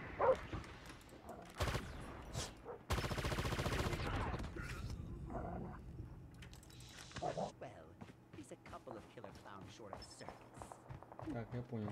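Gunfire bursts from the Call of Duty Mobile video game, a dense rapid volley early on followed by scattered shots, footstep-like taps and game effects, with voices talking over the action throughout.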